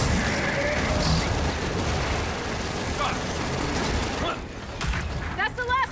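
Machine gun fire in the Gears of War 4 video game, a dense, continuous rattle of distant automatic shots and explosions under battle noise, easing near the end as voices talk over it.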